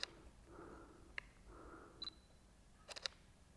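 A Fujifilm X-H1 camera with in-body stabilization running, heard as faint soft whirring pulses and small sharp clicks and ticks close up in a quiet room, with no talk.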